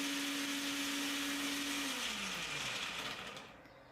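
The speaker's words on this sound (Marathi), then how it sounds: "आता हे संपूर्ण साहित्य एकदम पेस्ट स्वरूपात मिक्सरला फिरवून घेऊयात" A mixer grinder whirs loudly and steadily as it blends dates and other ingredients into a paste, its motor pitch dropping near the end as it winds down.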